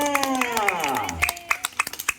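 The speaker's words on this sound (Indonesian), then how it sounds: "kita berikan tepuk tangannya untuk satwanya" Clapping from an audience at an animal attraction show rises under a descending whistle-like tone, turning into a run of distinct, quickening claps near the end.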